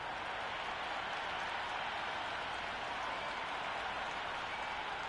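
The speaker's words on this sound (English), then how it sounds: "already the crowd making a hell of a racket" Crowd at an India vs South Africa T20 warm-up in Mumbai in the Cricket 26 video game makes a steady, loud, hissing roar of noise and clapping without pause.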